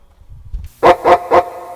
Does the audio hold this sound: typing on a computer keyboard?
no